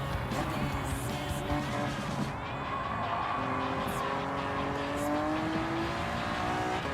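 A 1992 Honda NSX Type R tuned to 419 horsepower in a racing video game, its engine droning steadily at high revs throughout, with faint tire noise and a few whooshes layered over the sustained tone.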